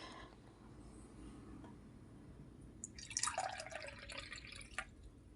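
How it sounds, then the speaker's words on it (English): Faint room hush, then tea trickles and splashes into a cup for about two seconds, quiet and close, ending with a light clink. "So I'm going to pour a cup of tea."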